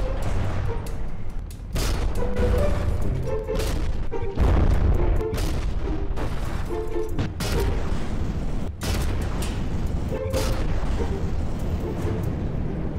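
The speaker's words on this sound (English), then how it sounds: "I'm just gonna keep shooting at this guy" Repeated gunfire and heavy booms in the naval combat game From The Depths, bursts of shots and impacts spaced irregularly over a constant low rumble, with no talking.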